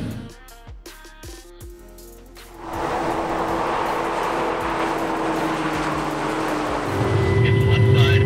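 A McLaren 650S Spider on track laps at Sonoma Raceway, starting with clicks and knocks before the engine fires and settles into a loud, steady drone with road noise, building further near the end.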